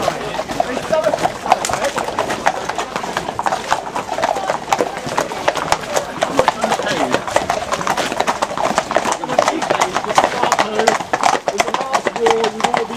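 Horse hooves clip-clop steadily on a hard surface at a hunt protest near Milborne Wick, close and continuous, with people talking and shouting over them.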